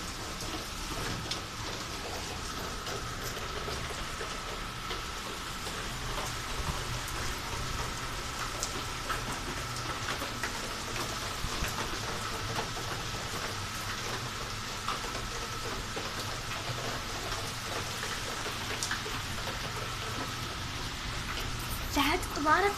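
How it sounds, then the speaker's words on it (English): Heavy rain pours down as a dense, continuous hiss and patter, steady and loud throughout, with a faint background hum and a slight swell near the end. "That's a lot of raining, guys."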